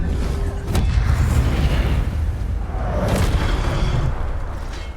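Expelliarmus spell cast in Hogwarts Legacy, a loud booming blast with a deep sustained low rumble, a sharp crack early on and a second swell a couple of seconds later.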